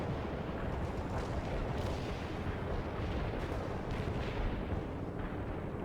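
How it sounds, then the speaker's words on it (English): Artillery barrage in the World in Conflict: Soviet Assault real-time strategy game, a dense continuous rumble of distant shelling and blasts rolling on without pause, steady and fairly faint throughout. "Heavy fire support here. Got any coordinates? Want an artillery barrage?"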